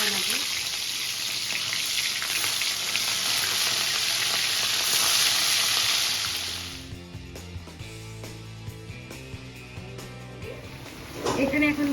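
Prawn malai curry and meat cooking together in a home kitchen: loud steady sizzling and frying for about seven seconds, then quieter bubbling with clinks of stirring utensils, and a burst of sizzle again at the end.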